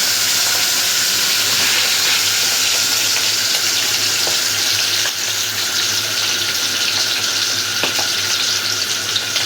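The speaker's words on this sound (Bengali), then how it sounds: "এখন আমি মাছটা আগে ভাইজে নিব" Marinated fish fries in hot oil in a wok, a loud, close, continuous sizzling hiss with faint scattered crackles that holds steady throughout.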